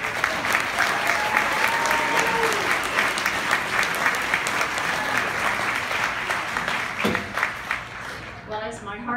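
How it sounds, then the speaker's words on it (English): Sustained, loud applause fills the room at a realtors' association awards ceremony as a distinguished service award winner is honored, steady clapping throughout before it thins out near the end. "give her a applause"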